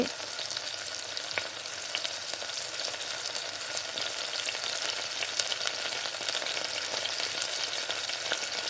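Chopped tomatoes sauté in a pan for a tangy tomato thokku. The close sizzle is steady and dense, with faint stirring ticks throughout and no voices.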